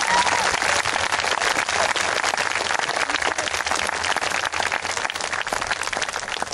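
A school audience gives dense, sustained applause for the staff and helping adults at an elementary school legacy night. The clapping is loud and continuous throughout, a full crowd with no one speaking over it.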